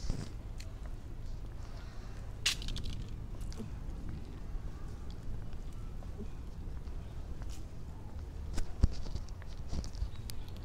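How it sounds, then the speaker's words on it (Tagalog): Steady rain patters down across an outdoor garden at Gardens by the Bay in Singapore, a soft continuous wash with scattered sharper drops and no talk. "Ulan na ulan."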